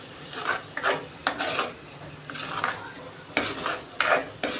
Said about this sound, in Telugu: మసాలా మొత్తం మిక్స్ చేసుకుందాం.